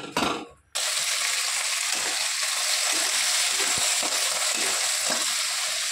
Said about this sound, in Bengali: গুগলিটা দিয়ে দিলাম, দিয়ে ভালো করে নাড়াচাড়া করে নিলাম